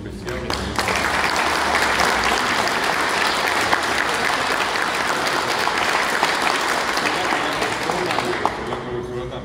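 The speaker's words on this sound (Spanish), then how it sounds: "quiero pedir para ella un aplauso muy especial" An audience in a hall in Corrientes, Argentina applauds a teacher of the Guaraní language, dense sustained clapping lasting about nine seconds before tapering, with voices mixed in underneath.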